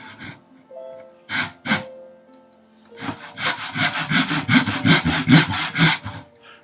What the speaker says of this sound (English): It's pretty typical of my sawing.